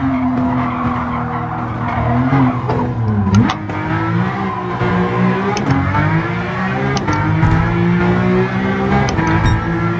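Race car engine in Gran Turismo 7, a Porsche GT3 RS-type car after the 1.49 update, revving loudly with rising and falling pitch, gear shifts and tire squeals throughout, close and alone.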